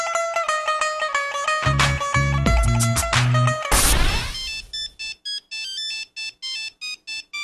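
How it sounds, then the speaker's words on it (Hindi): A mobile phone ringtone plays as a loud melodic tune with a bass beat, then breaks into a rapid run of short repeated beeps with gaps between them. "फोन उठाओ"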